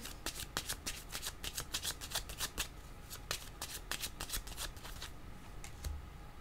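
Tarot cards shuffled by hand before a card is drawn, a steady, close run of crisp riffling flutters and soft taps that continues for several seconds with no talking.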